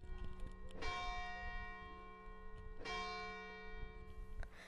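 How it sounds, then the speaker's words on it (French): Church bell tolling in a village to call the inhabitants to mass, two strong ringing strikes about two seconds apart with long sustained metallic overtones over faint background ambience. "Il entendit à nouveau la cloche qui appelait les habitants à la messe."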